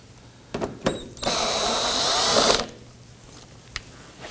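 A power tool backing bolts out of the front inner fender liner on a 2018-2024 Toyota Camry, a couple of short clicks then one sustained whirring burst of about a second and a half, close and alone.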